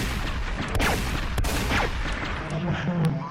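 Gunfire from a Ukrainian first-person shooter video game, a few sharp shots cracking out over a busy background of game noise, with a voice talking faintly underneath.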